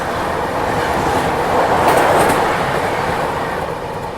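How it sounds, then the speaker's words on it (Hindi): A passenger train pulls into Sant Hirdaram Nagar railway station, bound for Bhopal, with a loud, steady rumble and rattle of rolling railcars that swells slightly midway, heard up close with no talk. "अपनी गाड़ी पहुंच चुकी है संत हिरदाराम नगर रेलवे स्टेशन।"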